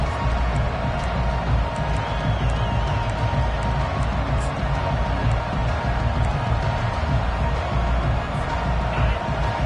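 A stadium crowd roars and cheers in an NCAA 25 college football video game, Michigan versus USC, late in the fourth quarter. A dense, sustained wash of crowd noise swells slightly throughout, loud and continuous.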